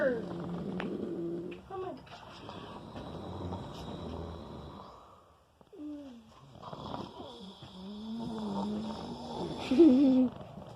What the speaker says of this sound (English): this is how our dad snores when he's sleeping